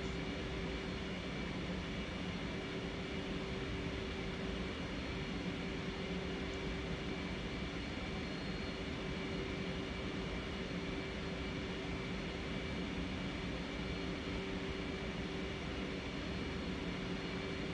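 An F/A-18 jet in the DCS combat flight simulator cruises after takeoff, a steady, unbroken engine roar filling the whole stretch with a faint constant whine on top and no talking.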